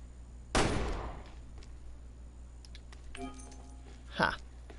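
A single loud gunshot in Resident Evil: Revelations 2 that rings out and decays, followed by faint clicks and a second, quieter shot near the end.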